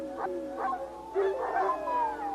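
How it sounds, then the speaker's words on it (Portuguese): Recorded howls of a rival wolf pack, several overlapping drawn-out howls rising and falling one after another, steady and fairly close, with no talking. "O fazendeiro precisa tocar a gravação de uivos de lobos rivais todos os dias"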